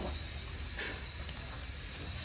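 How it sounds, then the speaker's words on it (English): Water sprays steadily onto tomato plants in a home vegetable garden, a constant near hiss with no breaks and no talking. "And let's water the tomato as well because they're all ground."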